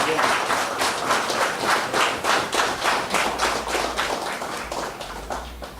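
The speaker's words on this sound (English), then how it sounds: "Another round of applause." Diners at a celebratory dinner honouring a champion basketball team applaud, the clapping settling into a rhythmic, pulsing beat that gradually fades, moderately loud in a large room.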